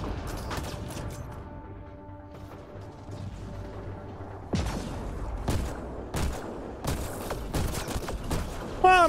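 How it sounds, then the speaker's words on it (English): Gunfire from the Mass Effect Andromeda video game, a run of sharp shots and bursts that grows denser and louder toward the end, mixed with game music and mechanical clatter. "I'm just gonna keep shooting stuff."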